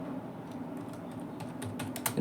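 Someone types C code on a computer keyboard in a quiet room, a run of soft, uneven key clicks ending in a louder press.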